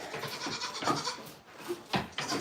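A baby goat bleats repeatedly at close range on a farm, a series of wavering, nasal cries with short breaths between them.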